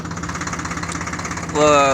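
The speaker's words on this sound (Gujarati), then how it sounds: "આમાં જો ટ્રેક્ટર હાકી રહ્યા છીએ" A tractor engine chugs in a steady, pulsing idle close by in a chickpea field, then revs up louder toward the end.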